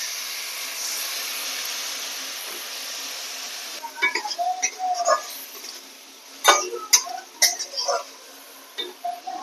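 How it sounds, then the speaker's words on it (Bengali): Spice masala is stirred in a cooking pan for a tamarind puthi fish curry. A steady sizzle sits beneath quick, clattering scrapes of the spoon against the pan, coming in short clusters close by. "মশলাটি নাড়াচাড়া করব, লেগে না যায় দিয়ে দিব জল।"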